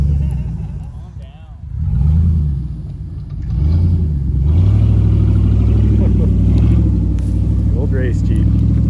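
A Jeep Cherokee engine rumbles and surges as it revs up to ram, a loud, steady low drone building over several seconds while people shout nearby.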